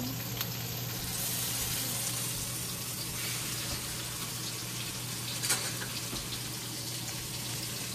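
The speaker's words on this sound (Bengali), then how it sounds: "আর নুন দিয়ে এটা একটুখানি ভেজে নেব।" Turmeric and salt fry in a pan with a steady, soft sizzle throughout, a faint continuous hiss with an occasional small clink partway through, and no voices.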